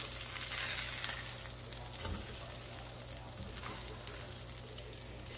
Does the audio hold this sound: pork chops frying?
yes